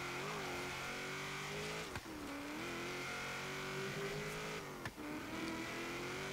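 A 1970 Chevrolet Corvette ZR-1 accelerating hard in Forza Horizon, its engine roaring continuously and climbing in pitch, with two brief dips at gear changes, loud and close throughout.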